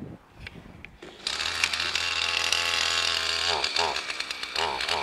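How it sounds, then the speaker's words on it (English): A chainsaw starts and runs steadily at a homestead garden, buzzing loud and continuous from the midpoint onward, with a brief voice at the start. "Hubby just started the chainsaw, so not sure how it's gonna be."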